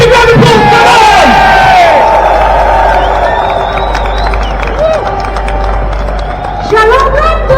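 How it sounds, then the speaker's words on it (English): A large outdoor rally crowd in London cheers, whoops and claps loudly for a survivor taking the stage, a dense, sustained roar with shouts and whistles rising again near the end. "ladies and gentlemen, give a big round of applause, come on!"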